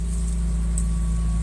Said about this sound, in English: Listen to that engine. You hear that engine in this car,